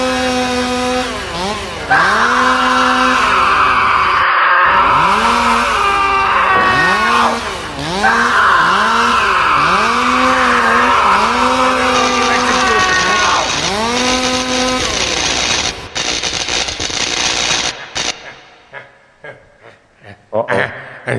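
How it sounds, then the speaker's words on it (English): A chainsaw engine revs up and down in repeated surges, loud and close, running steadily for over fifteen seconds before cutting out into scattered clatter. "It wasn't the dragon. It was a chainsaw."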